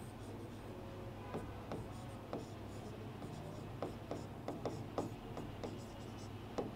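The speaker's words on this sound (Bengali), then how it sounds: "তাহলে আমরা একটু লিখি" Chalk or marker is written on a board during a physics lecture, making quiet scratchy strokes and taps in irregular bursts. Room tone hums underneath, with no clear speech.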